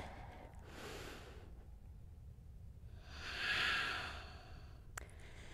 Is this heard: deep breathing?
yes